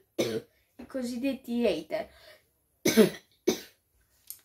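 A man coughs and clears his throat several times in short bursts between spoken words, close and loud.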